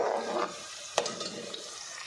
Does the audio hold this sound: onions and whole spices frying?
yes